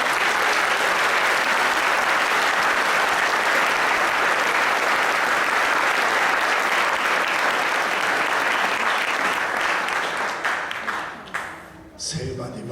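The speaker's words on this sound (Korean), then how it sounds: "호성기 목사님, 이제 원로 목사님이신데 나와주실 때 더 큰 박수로 환영하겠습니다." Loud, sustained applause fills a church hall as the retiring senior pastor comes forward, steady for about ten seconds before tapering off into quieter sounds.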